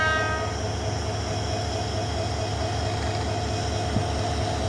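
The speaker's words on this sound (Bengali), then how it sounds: "3002 লোকোমোটিভ নিয়ে 798 কুড়িগ্রাম এক্সপ্রেস আন্তনগর ট্রেনটি পার্বতীপুর জংশন আউট করলো" The 798 Kurigram Express intercity train pulling out of Parbatipur Junction behind locomotive 3002 produces a loud, steady diesel engine drone and rumble with a sustained tonal hum, close and unbroken throughout.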